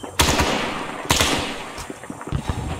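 Bursts of machine gun fire in SOG Prairie Fire, a Vietnam-era military game: two loud, close volleys of rapid shots, then a few scattered softer rounds, with no talking.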